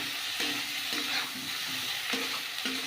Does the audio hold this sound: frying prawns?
yes